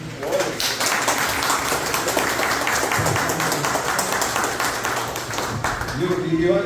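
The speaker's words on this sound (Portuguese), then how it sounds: "eu quero uma salva de palmas pelos dois estarem aqui" Audience at a Brazilian book launch claps in a steady, dense wash for several seconds, with voices murmuring through the applause.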